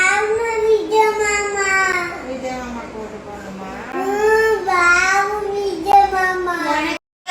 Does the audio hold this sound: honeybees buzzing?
no